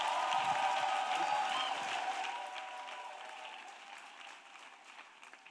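A church congregation applauds at a revival gathering, sustained dense clapping that slowly fades toward the end.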